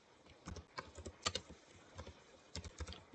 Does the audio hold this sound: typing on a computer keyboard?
yes